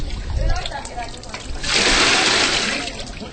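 Liquid for pito is poured through a sieve into a pot, a rushing, splashing pour that builds and holds for about a second and a half, following softer sloshing sounds.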